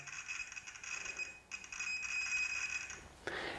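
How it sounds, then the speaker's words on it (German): A multimeter's continuity tester sounds a steady electronic beep while checking a cable, cutting out briefly once and stopping near the end, followed by a short rustling noise. "Da kommt doch ein Piepsignal."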